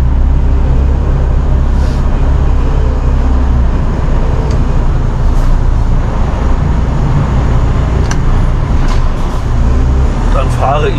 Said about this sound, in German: Mein Dreiachser läuft wieder.